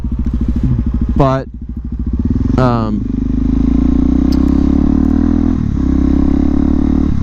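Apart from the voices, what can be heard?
Suzuki DRZ motorcycle engine running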